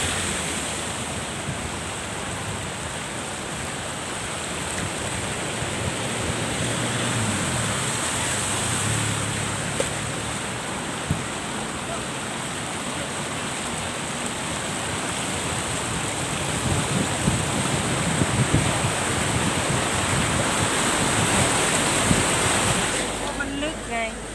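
Floodwater streaming across a road near Nakhon Phanom, Thailand, a steady broad rushing wash with wind buffeting the microphone, continuous and fairly loud throughout, with faint voices now and then.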